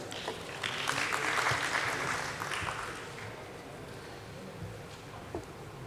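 Audience applause greets an HDFC Bank executive at a BSE listing ceremony, a moderate burst of crowd clapping that swells over the first two seconds, then thins and fades toward the end.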